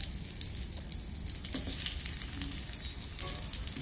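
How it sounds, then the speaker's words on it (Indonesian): Garlic sautéing in a little hot oil in a pan, a steady bright crackling sizzle with occasional soft pops, close and moderately quiet, no voices. "Selanjutnya kita panaskan sedikit minyak, lalu masukkan bawang putih,"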